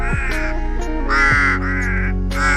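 Loud, close crow caws repeat in harsh, drawn-out calls, several in quick succession with short pauses between them.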